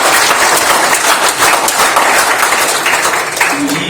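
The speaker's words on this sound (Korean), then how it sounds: "건립을 기원하는 큰 박수 한번 주시죠" An audience at a science hall founding anniversary forum breaks into loud, dense applause close by, sustained clapping throughout with a voice faintly over it near the end.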